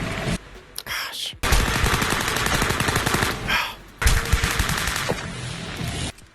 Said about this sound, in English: fire a gun at moving targets and manually reload while somehow steering a motorbike